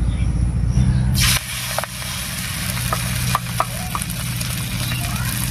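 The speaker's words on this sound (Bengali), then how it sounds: "এই গন্ধবাদালি পাতার বড়াগুলো ভেজে নিচ্ছি।" Gandhabadali leaf fritters fry in oil already used for taro fritters, giving a continuous close sizzle with small pops and crackles after batter drops in.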